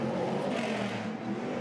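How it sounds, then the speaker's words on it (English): Stadium Super Trucks racing past pit lane at Adelaide, a loud, continuous engine roar and whir close by that fills the whole moment with no talk. "if you've ever wanted to know just how loud it is down here in pit lane, I think that sums it up"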